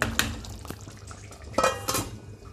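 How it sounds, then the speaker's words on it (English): Boiled eggs are turned through masala in a pan, giving a few brief metallic clinks and scrapes of a spoon against cookware, close by, with quiet gaps between them. "I will now coat these eggs with the masala."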